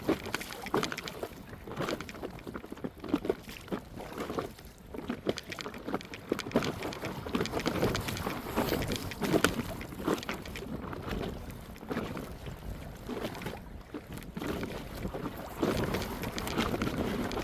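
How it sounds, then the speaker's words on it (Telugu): Strong wind buffets an old wooden boat out on a village lake, gusting in uneven surges with rushing microphone noise and water movement, loud and close throughout. "పడవ మీద ఉన్న డబ్బు కూడా గాలికి వెళ్ళిపోతుంది, అంత గాలి."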